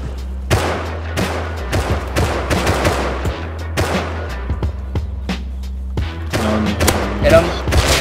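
Loud, sharp gunshots ring out in the survival game Rust, some single and some in quick clusters, over a low engine-like drone, with a few short pauses between volleys and faint game effects.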